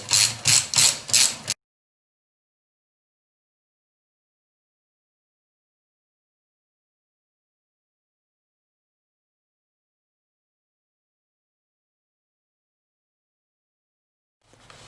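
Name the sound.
ratchet tightening intake manifold bolts on Buick LS swap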